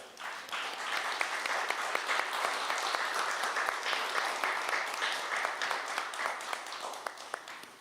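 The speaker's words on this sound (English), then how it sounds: "give a round of applause to Lynn Obrecht, who just walked in the door" An audience applauds Lynn Obrecht as she arrives, sustained, evenly dense clapping from many hands that swells quickly and tapers slightly toward the end, heard at a moderate distance.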